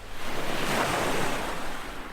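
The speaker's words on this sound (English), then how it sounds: "you can hear the distant sounds of crashing waves" Distant ocean waves crash and wash in a continuous broad roar, with a steady wind-like hiss and nothing else over it.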